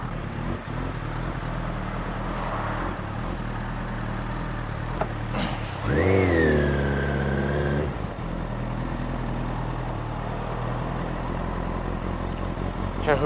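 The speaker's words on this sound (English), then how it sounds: "Oh God, this traffic." Steady road traffic drones in a Japan setting heard from a motorcycle, with cars and engines rumbling close by and a vehicle revving louder for a couple of seconds midway.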